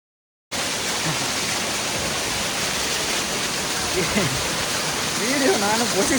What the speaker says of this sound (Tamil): இது இங்கே இருக்கிறதுல கொஞ்சம் சின்ன ஃபால்ஸ் தான்.